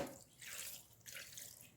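Water is poured into a cooking pot while making sambar, a soft splashing stream that runs in two short bursts, heard close and quiet with no talking.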